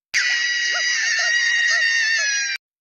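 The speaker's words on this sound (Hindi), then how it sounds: "होली की रात में श्मशान के सन्नाटे के बीच एक चीख गूंजी" A sustained, piercing scream, as in a horror story set in a cremation ground on Holi night, holds at full loudness for about two and a half seconds and then cuts off abruptly, with no other sound.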